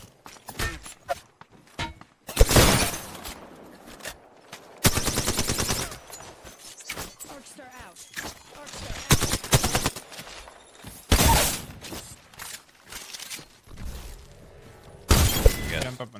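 Rapid bursts of automatic gunfire from Apex Legends, loud clustered volleys repeating every couple of seconds with sharp cracks and shattering impacts between them, up close and dominating the mix.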